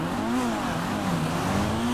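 A Vapid Flash GT launches hard in GTA 5, its engine droning steadily with a wavering pitch that rises and dips over two seconds, close and continuous with no talk.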